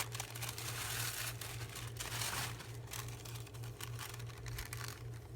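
Paper being cut with scissors for a collage, with steady crisp crinkling and snipping rustle close by, continuous for several seconds with no talking.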